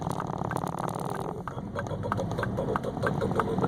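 A 2006 Saab 9-3 2.0T turbo four-cylinder idles with a misfire, a close, steady engine rumble broken by uneven stumbles and ticking, with no voices.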